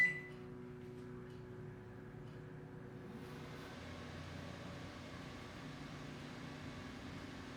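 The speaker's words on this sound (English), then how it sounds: "First, a microwave oven. This one here is a 1500 watt." A 1500 watt microwave oven running off a Jackery Explorer 1500 power station, giving a steady low hum and whir that is faint and continuous, with no talk.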